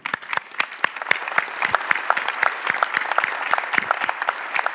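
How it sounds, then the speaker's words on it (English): An audience at a conference spotlight session breaks into applause, a fairly small crowd clapping with distinct, uneven claps that keep a brisk patter for several seconds. "Can we get a big applause?"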